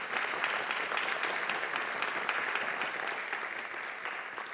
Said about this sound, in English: Let's give her one round of applause.